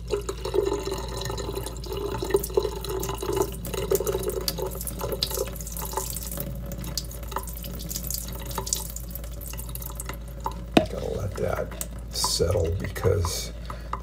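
Water full of freshly hatched brine shrimp pours and splashes steadily through a fine shrimp net, like a running tap into a sink. A brief drip or knock cuts through the flow, and a voice seems to talk over it.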